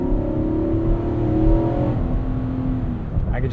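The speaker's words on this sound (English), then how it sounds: "I could just listen to this V8 all day long." A 2021 Infiniti QX80 Premium Select's V8 engine revving, a steady deep drone heard from inside the cabin that eases off partway through, with no talking.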